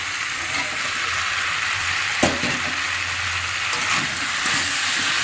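Cauliflower sautéing in a pan, heard as a loud, continuous frying sizzle with a sharp clatter of stirring partway through and soft scraping afterward.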